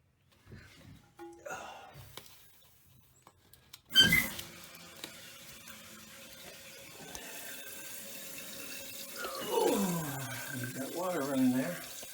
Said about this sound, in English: Water running there.